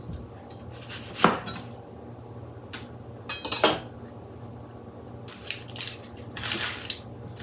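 A knife trimming a bad spot off an onion on a cutting board, a few sharp close cuts and clicks spaced irregularly over a quiet kitchen background, with no talking.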